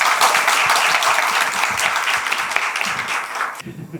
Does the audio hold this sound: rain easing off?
no